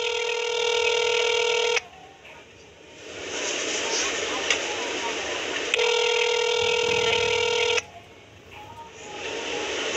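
A telephone sounds in two long, loud tone bursts with quieter line noise and a faint voice between them, the pattern typical of call signalling rather than individual dial tones.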